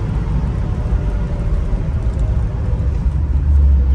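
A 1964 Ford Custom 500 with a dual-carb FE 390 V8 and four-speed floor shifter pulls away, its low engine rumble steady and close before swelling louder at the end.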